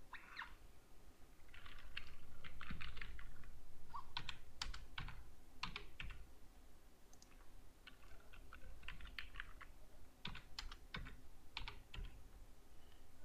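Fingers type on a computer keyboard in bursts of quick clicking keystrokes with short pauses between them, close and fairly quiet over a steady background hum, with no talking.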